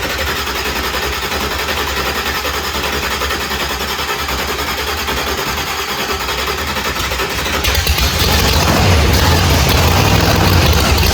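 A car engine in a turbo rebuild, fired on brake clean, runs with a steady buzzing idle close by, then its note rises and grows rougher and louder toward the end.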